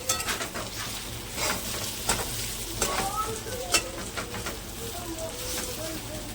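Stuffed bell peppers cooking in a pan, giving a close, continuous sizzle with scattered stirring clatter and occasional sharper pops throughout.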